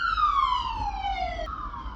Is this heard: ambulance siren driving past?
yes